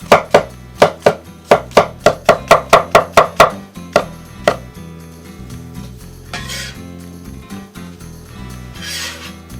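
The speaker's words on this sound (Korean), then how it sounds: "양송이는 이렇게 모양을 살려서 슬라이스 해주세요." Button mushrooms are sliced with a knife on a cutting board in quick, even chops, about a dozen crisp close-up taps in a row, then a few slower cuts and soft scraping with no talk.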